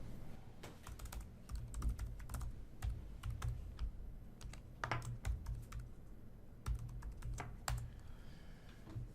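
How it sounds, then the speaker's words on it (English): Login credentials being typed on a computer keyboard, a steady run of close, crisp key clicks in an irregular rhythm over a low background rumble, with no voices. "type in your login credentials"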